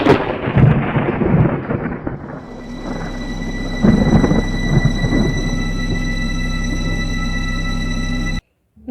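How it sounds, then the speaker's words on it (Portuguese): Loud, close thunder from a lightning strike near an airplane flying through a storm, a sharp crack and heavy rolling rumble that swells again midway, then fades under a steady hum before cutting off. "Um feixe de raio cai bem perto do avião, causando um clarão enorme."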